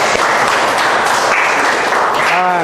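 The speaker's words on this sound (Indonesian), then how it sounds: "bagian tepuk tangan buat teman kami" Classmates clap for a group after its presentation in a school classroom, a dense, steady patter of hands with voices mixed in.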